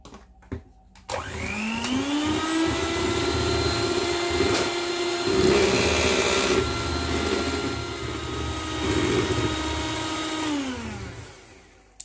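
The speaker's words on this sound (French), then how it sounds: "Et je vais continuer le fouettage." A mixer whisks cream under a lid, giving a steady, loud whirring drone that starts abruptly, holds for about ten seconds with slight shifts in pitch, then winds down, with no talking.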